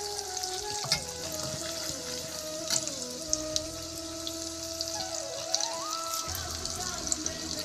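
Chana dal and asafoetida fry in hot oil with a continuous close sizzle and occasional stirring clicks, while a tonal whine wavers in the background.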